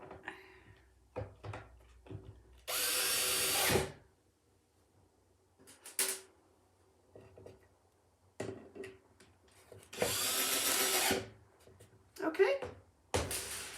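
Two loud, sustained bursts of a power drill driving short screws into a wooden base, each lasting about a second, separated by quieter knocks and handling sounds; someone talks between the bursts.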